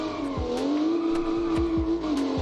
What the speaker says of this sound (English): We're drifting all the way up.